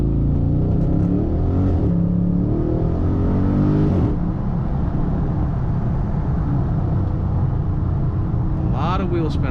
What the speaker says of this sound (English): A lot of wheel spin on that one.